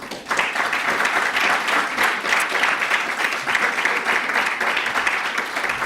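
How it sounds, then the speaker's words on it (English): Audience at a summit conference applauding panelists, dense continuous clapping from a sizeable crowd, loud and close with slight swells, and no speech over it. "give a quick round of applause to all the panelists"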